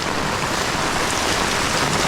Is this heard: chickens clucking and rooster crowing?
no